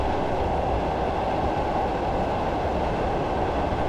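Simulated Class 111 diesel multiple unit coasting at 40 mph on the Dumfries to Kirkcudbright line in Train Simulator 2015, giving a steady, loud, continuous low rumble of running gear and rail noise throughout, with no talk.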